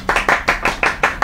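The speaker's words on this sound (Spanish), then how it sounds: "¡Aplausos!" Rhythmic hand clapping, about seven sharp claps in steady succession, loud and close, with no voices over it.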